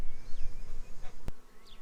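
Honey bees buzz around an open hive whose frames have been joined together, a close, wavering drone with individual insects passing nearby, briefly interrupted by a sharp knock.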